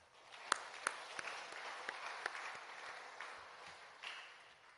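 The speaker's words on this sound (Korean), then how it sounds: "박수로 우리 한번 격려해 주시고." A church congregation applauds during a Sunday worship service, a dense wash of clapping at moderate distance with a few sharper individual claps standing out, steady for several seconds without speech.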